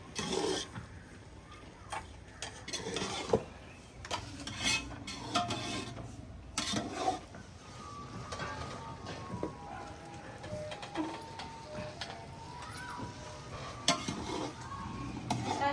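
Rice with jaggery stirred in a pot in a village kitchen: a spoon scrapes and knocks against the metal in uneven bursts over a faint sizzle, quiet and close, with no voices.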